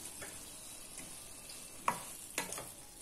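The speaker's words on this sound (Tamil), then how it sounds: "சேர்த்துட்டு கிளறி விட்டுருலாம்." A spoon stirs paneer fried rice in a pan over a faint steady sizzle, with two or three sharp scraping clinks standing out in an otherwise quiet kitchen.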